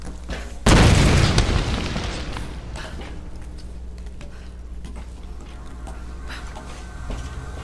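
A loud explosion blasts a way out in the action game Tomb Raider, a sudden heavy boom that decays into crackling debris and scattered ticks, followed by a low ambient hum.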